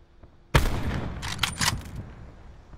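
A sniper rifle fires in a video game, a sharp loud crack followed by a rolling echo and a few trailing bursts that fade out over a couple of seconds.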